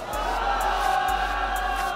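A quiz-show audience at a school election golden-bell contest shouts together in a sustained, loud crowd roar answering the host's prompt, steady throughout with no pauses.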